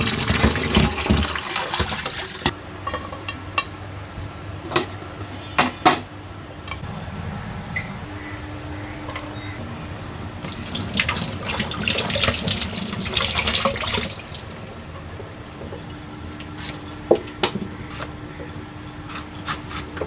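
A kitchen tap runs steadily into a sink while fish are washed, the water surging louder in bursts, especially midway through, with occasional clinks and faint background sounds.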